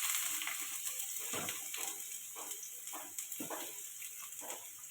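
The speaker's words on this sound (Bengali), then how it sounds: "এখন তেল দিয়ে দিলাম, আলুটা ভেজে নেবো একটু" Potatoes fry in hot oil for a spicy bhola fish curry with potato and eggplant, giving a steady, close sizzle with light stirring clicks and scrapes throughout.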